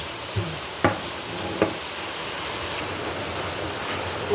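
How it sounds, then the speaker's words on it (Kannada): Bitter gourd frying in hot oil in a pan, a steady close sizzle with a few brief stirring clicks early on, no talking. "ಚುಳಿ ಎಣ್ಣೆ ಹಾಕೊಂಡಿದೆ ನೋಡಿ ಫ್ರೆಂಡ್ಸ್ ಹಾಗಲಕಾಯಿ ಹಾಕಂತ ಇದ್ದೆ"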